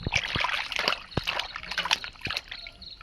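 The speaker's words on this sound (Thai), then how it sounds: "ทุกคนสิมาล้างทำความสะอาดก่อนล้างจนเบิดน้ำมูกน้ำข้าวมันหมดเลย" Fish washed by hand in a basin of water, with repeated splashing, sloshing and trickling and sharp knocks against the container, close up and busy, with a little talk in the background.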